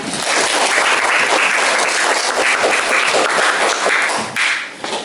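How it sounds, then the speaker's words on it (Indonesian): Audience applause for student council (OSIS) candidates at SMKN 1 Miri after their vision and mission speeches, a dense, steady burst of many hands clapping that holds loud for about five seconds before tapering slightly at the end. "Beri tepuk tangan yang meriah."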